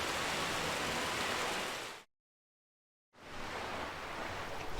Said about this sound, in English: Even more rain finally going away.